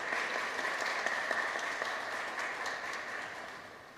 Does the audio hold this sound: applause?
yes